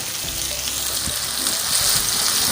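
Chopped green chillies sizzle steadily in a pan for an aloo anday ki pharji (potato and egg scramble), a dense, even hiss of frying that swells slightly toward the end, with no voices.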